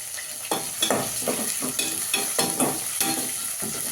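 Garlic and curry leaves sizzle in hot oil while a utensil stirs them, with scraping strokes at irregular intervals over a steady frying hiss.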